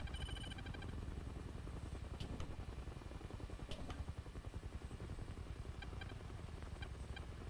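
Inside a War Thunder helicopter, rapid beeping warning tones sound intermittently over the steady thudding of rotor blades, with short bursts of tones at the start and end.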